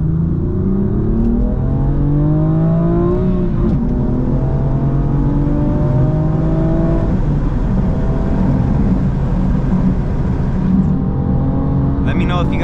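A BMW M4 Competition with a six-speed manual is driven hard on a canyon road and heard from inside the car. The engine note is loud and rises repeatedly through the gears, with dips at each shift and steady road roar beneath.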